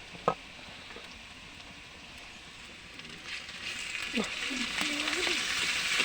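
Spices and ginger fry in a pan with a steady, soft sizzle that builds louder toward the end, broken by occasional scrapes and knocks of stirring; no voices.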